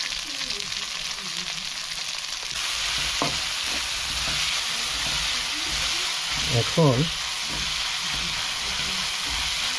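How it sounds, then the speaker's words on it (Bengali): Chopped onions with torn bay leaves frying in mustard oil in a pan, a constant loud hissing sizzle with occasional spatula scrapes and a couple of sharper clatters, close by and without voices. "এখন এই পেঁয়াজগুলো মোটামুটি ভেজে নিব, তো লালচে করে ভাজলে হয়ে যাবে।"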